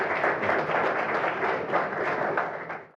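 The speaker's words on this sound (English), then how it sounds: "a rousing applause" A folk music audience breaks into dense, sustained applause for a veteran musician, many hands clapping together at close range, steady throughout before tapering off at the end.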